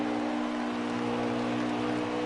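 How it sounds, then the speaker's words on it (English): A race car engine drones steadily at about half throttle through a corner at Indianapolis, a constant mechanical hum with a rough, buzzing tone and no voices. "if you want to hear how this car is driving, listen to him on the throttle and exit"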